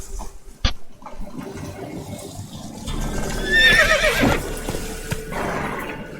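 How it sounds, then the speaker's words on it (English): A frightened horse in the video game The Witcher 3 lets out a loud, shaky whinny in the middle of the clip, after a sharp knock at the start, over a low, rumbling game ambience. "O cavalo está assustado."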